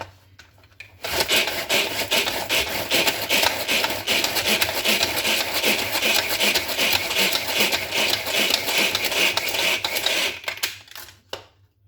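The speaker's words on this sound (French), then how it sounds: "On va maintenant utiliser notre petit tornado pour hacher 10 g d'aneth." A small Tornado hand chopper whirs steadily as it chops 10 g of dill, a loud, continuous rasping spin lasting about ten seconds, with no talk.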